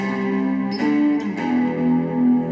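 Electric guitar through an amp-style overdrive tone, sustained distorted notes with a couple of pick attacks, loud and close with no voice.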